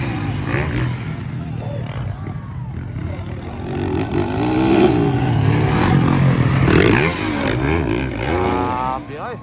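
Motocross motorcycle engines roar and rev through a pro open final heat at an outdoor race in San Fernando, Bukidnon, loud and continuous with rising and falling pitch, under excited commentary.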